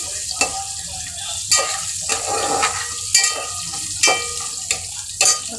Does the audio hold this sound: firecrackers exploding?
no